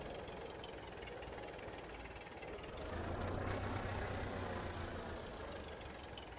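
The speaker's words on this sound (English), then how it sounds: "Oh, this skidder has got some good horsepower." A forestry skidder in Farming Simulator 22 runs its diesel engine steadily under load while pulling uphill. The drone rises and deepens partway through as the engine works harder, then eases back toward the end.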